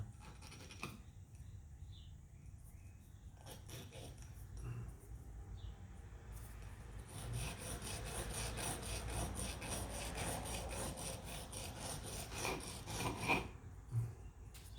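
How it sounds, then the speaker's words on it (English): A wooden harp button hand-sanded to a point: scattered scrapes at first, then a steady, close back-and-forth rasping of abrasive on wood that continues to the end, no talk. "just kind of go back and forth like this to grind that sharp point on"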